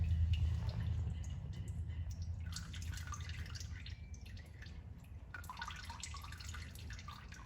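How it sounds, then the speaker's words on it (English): Engine oil drips from the loosened drain plug of a 2011 Toyota Corolla during an oil change, a steady patter of liquid falling into a pan over a low background rumble, close and continuous. "That's been dripping for a while."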